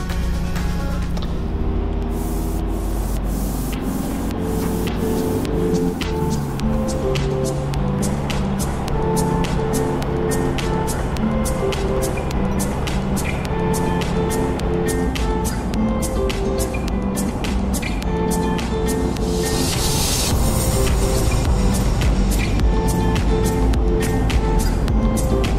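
Car on a snowy road trip through small towns, a steady loud engine drone with road rumble and passing traffic throughout, a few sharp clicks and a brief hiss near the end.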